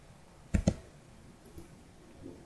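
Computer mouse clicks in CellSens microscopy software, a quick close pair of sharp clicks followed by a fainter single click, over a quiet room.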